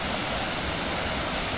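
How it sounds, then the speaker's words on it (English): Roaring, steady rush of a waterfall cascading near a swimming hole on the way to Tauranga, loud and close, with constant dense white-noise texture throughout. "this is the waterfall"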